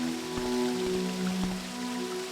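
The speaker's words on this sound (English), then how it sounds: "this is the sound of walking" A few soft, evenly spaced walking footsteps in the game Morrowind over a steady tonal background hum, quiet and close.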